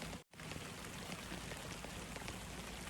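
Steady rain pours down outdoors in a garden bed readied for planting asparagus crowns, a dense, even patter close by, briefly interrupted by a sharp cut near the start.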